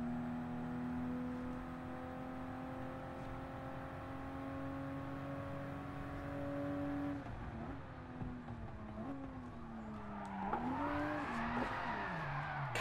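Toyota GR Supra RZ engine drifting in Gran Turismo Sport: a steady droning engine note that breaks into swooping revs, gear shifts and rising whine as the car slides through a corner.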